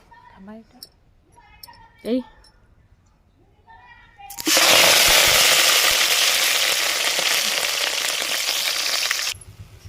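Washed fenugreek leaves go into a hot pan and set off a loud, steady sizzle that runs for several seconds and then cuts off. A voice talks briefly just before the frying starts.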